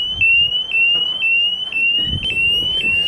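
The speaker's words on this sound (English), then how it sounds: "To adjust the volume of your alarm, simply spin the dial until you find the desired volume." A ShockIQ alarm emits a loud, piercing electronic tone that pulses in a steady repeating pattern about twice a second, close by and alone, while its volume dial is turned.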